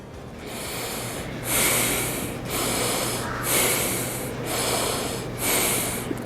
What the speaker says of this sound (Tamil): மிக மெதுவாக மூச்சை வெளியே விடுங்க